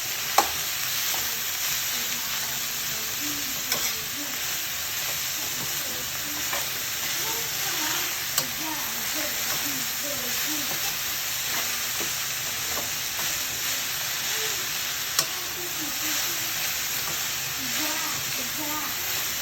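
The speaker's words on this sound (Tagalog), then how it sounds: "Haluin natin." Banana heart with moringa and dried anchovies being stirred as it fries in a pan, a steady close sizzle and hiss with repeated scraping strokes of the spatula, and scattered sharper clinks.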